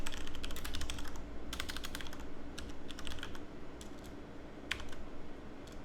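Steady typing on a computer keyboard into a code editor, with clusters of quick close key clicks separated by short pauses over a low background hum.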